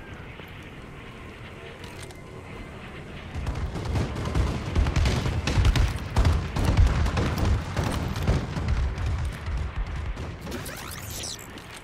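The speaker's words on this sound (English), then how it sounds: "Friendly bombing run clearing the way." Friendly bombing run in the Call of Duty: Advanced Warfare video game, a dense roll of booming explosions and rattling gunfire swelling after a quieter opening and rumbling on loudly to the end, with a brief high whine near the close.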